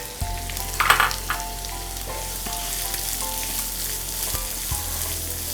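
Chopped onions and hot green chillies fry in a pan with a steady, even sizzle, broken by a few scraping stirs and clanks of a spatula near the start; no one speaks.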